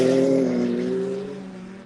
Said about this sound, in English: Oh, there goes the car.